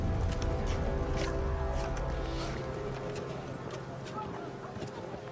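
Horses of mounted warriors gallop in a dense, continuous rumble of hooves, loud at first and easing slightly, with a voice speaking over the pounding.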